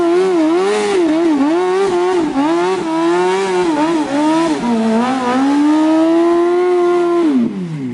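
Honda Civic EK engine running inside a shop, a loud, close, buzzy exhaust tone that rises and falls with revs, holding higher before dropping off at the end.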